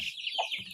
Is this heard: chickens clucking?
yes